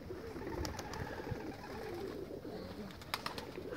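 Pigeons coo softly in low, rolling calls, several overlapping murmurs against outdoor ambience with a few sharp clicks and flutters, no talking.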